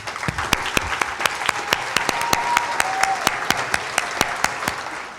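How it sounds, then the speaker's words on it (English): Applause from diners at a trustees' dinner honouring Bank Street faculty and staff, a dense steady patter with a few sharp, close claps standing out, continuing evenly throughout. "applause."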